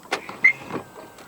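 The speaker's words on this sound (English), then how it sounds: "To lock the car, press the indented area on the driver's side door handle" A 2025 Jaecoo J8 2.0 Turbo locks by keyless entry at the door handle, giving a few short mechanical clicks and a brief chirp, close by and quiet, with no voices.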